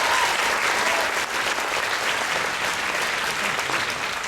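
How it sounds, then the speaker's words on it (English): A fan expo audience applauds for Sarah Paulson, a loud, dense wash of clapping that keeps going at full strength for several seconds, with no break. "let's get a round of applause for Sarah Paulson"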